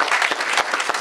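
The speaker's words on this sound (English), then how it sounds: "so give him a round of applause." Dense clapping from an audience, steady and full throughout a brief burst, with no voices over it.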